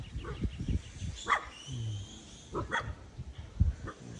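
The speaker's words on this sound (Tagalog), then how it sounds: "Aso." A dog barking a few times outdoors near a family home, short sharp yaps spaced apart at moderate distance, with soft background noise between them.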